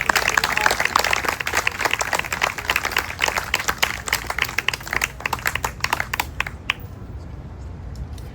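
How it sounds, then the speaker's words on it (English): A commemoration audience gives a round of applause for Tony, who stepped in to learn songs. Dense clapping runs for several seconds, then thins into scattered claps and fades out. "we need to give him a round of applause for that"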